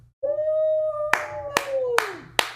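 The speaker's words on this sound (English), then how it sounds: "Can you clap with me?" Four sharp hand claps, evenly spaced and close, ring out over a sustained sung or hummed voice that holds a tone and slowly drops in pitch.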